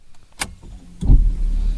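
A manual car's ignition switched on: a sharp click, then a low electrical hum and rumble that rises and holds steady for the remaining second.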